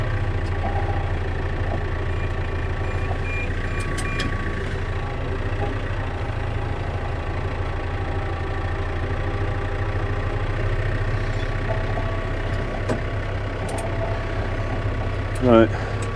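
A vehicle engine runs steadily in second gear, a loud continuous low drone with a faint mechanical whine, and a voice speaks over it.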